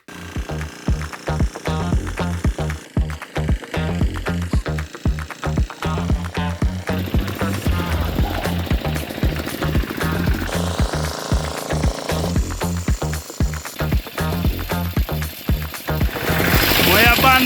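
A walk-behind tractor digging garlic in a field chugs with a steady, loud, rapid engine rhythm, close by and continuous throughout.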